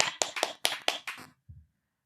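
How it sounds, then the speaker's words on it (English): Several people clapping hands in a short, uneven burst of about six quick claps that stops abruptly, followed by a soft low thump. "Y'all supposed to clap."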